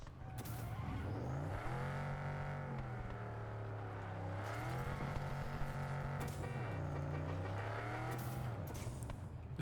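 Car engines in the video game Cyberpunk 2077 roar and rev in repeated rising and falling sweeps, with skidding and acceleration surges, loud and steady throughout and no talking.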